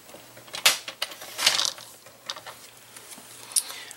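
Paper cut to size on a paper trimmer board for no-glue wedding favor boxes, heard as two short, crisp slicing strokes close by, with quiet handling noises in between.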